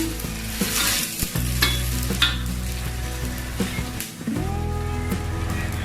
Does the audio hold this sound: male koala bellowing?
no